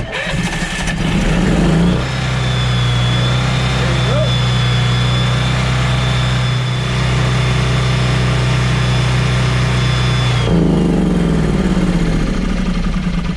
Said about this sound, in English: That's how you get a generator running at home.